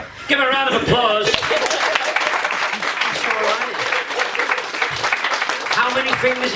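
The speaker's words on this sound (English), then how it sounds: "Give a round of applause" Audience applause breaks out at a stage hypnotist show, loud continuous clapping with voices and other sounds layered over it.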